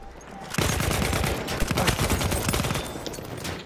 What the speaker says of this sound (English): Sorry if you can hear Battlefield 1 in the background.